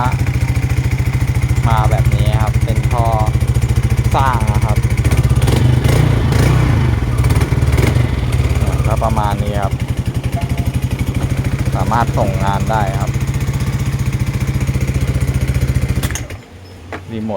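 A secondhand Yamaha Aerox scooter runs steadily close by after repairs to its electrical system, its engine a constant loud drone beneath someone talking, with a few clattering knocks before the engine cuts off near the end.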